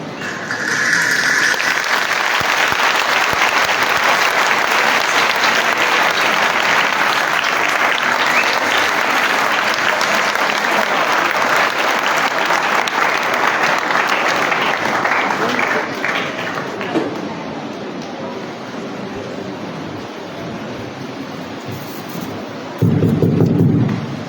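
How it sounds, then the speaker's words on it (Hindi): Loud, dense applause from a crowd at a Sunday Mass and Mother's Day celebration, cheering children and their teachers, sustained for about fifteen seconds before thinning out, then a short burst of voice at the end. "बच्चों के लिए, इनके टीचर्स के लिए भरपूर तालियां।"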